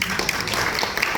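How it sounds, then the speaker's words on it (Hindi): Steady applause from an audience at a shayari recital in a Delhi hall, a dense wash of many hands clapping together for about a second, fairly loud and continuous with no single claps standing out. "शेर के वजन के हिसाब से तालियां कम है"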